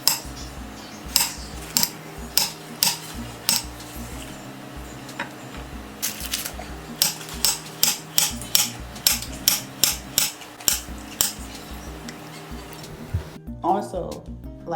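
A knife works through a peeled, thawed banana, giving a steady series of sharp taps and chops on a hard surface, close and fairly loud, with a brief voice near the end.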